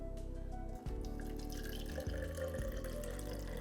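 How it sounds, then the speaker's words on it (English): Roughly 200 ml of water poured from a container onto superabsorbent polymer granules, a close, steady splashing flow with a couple of brief breaks and surges. "And I'm going to add 200 ml of water,"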